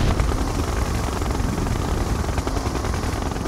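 A helicopter in the video game Red Alert 2 produces a dense, loud, continuous rotor rumble with rapid choppy pulsing, mixed with battle noise.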